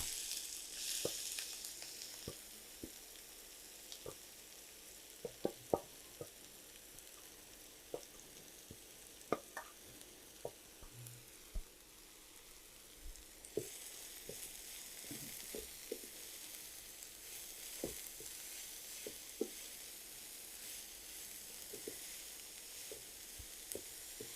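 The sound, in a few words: kolai greens frying with fried onion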